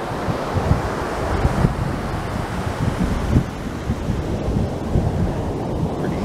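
Ocean waves and gusting wind at Muir Beach on the Pacific, a continuous loud roar of surf with wind buffeting the microphone in uneven thumps throughout.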